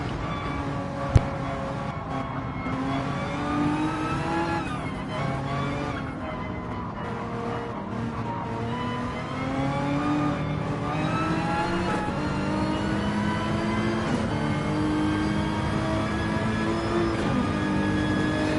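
Onboard a Nissan GT-R race car during the Nürburgring 24-hour race: a loud, steady engine drone rises and falls with each gear change and acceleration, filling the cabin continuously from start to finish.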